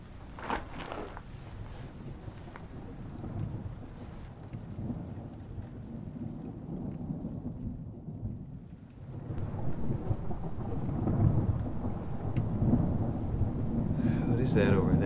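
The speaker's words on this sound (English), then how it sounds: "Wait out the storm in here." Low rumbling thunder rolls beneath steady rainfall, with a close crackle early on and the downpour growing heavier toward the end; a faint voice at the start.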